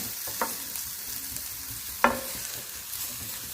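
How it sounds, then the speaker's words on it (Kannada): Grated beetroot is stir-fried in a pan with salt and turmeric. A soft, steady sizzle runs underneath, and two sharp scraping stirs stand out, one faint and one louder. No one speaks. "ಈಗ ನಾವು ತುರಿದಿಟ್ಟಿದ್ದು ಬೀಟ್ರೂಟ್ ಹಾಕುವ."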